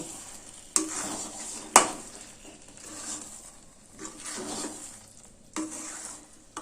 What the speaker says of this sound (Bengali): নুন আর চিনি খুব ভালোভাবে মিশিয়ে দিচ্ছি